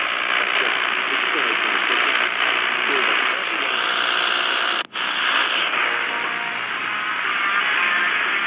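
Shortwave static hisses from a Tecsun PL-606 portable radio during an afternoon band scan, a dense, loud, continuous noise with a brief dropout and sharp click midway, then the steady hiss resumes.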